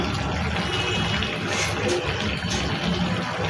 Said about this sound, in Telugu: ఇప్పుడు ఇందులో మనం కొంచెం వాటర్ వేద్దాం